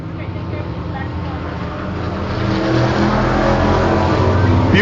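Race car engine roaring down the backstretch at Devils Bowl Speedway, a loud sustained drone that swells steadily as the car accelerates, with a voice talking over it.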